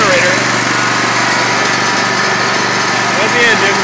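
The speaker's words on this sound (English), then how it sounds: "That's the engine, we broke the generator" A 10 kW generator set's small engine runs steadily at close range, a loud, constant buzzing drone with no pauses.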